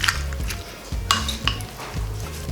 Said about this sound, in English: And on our molcajete, we're gonna mix chile, the shrimp.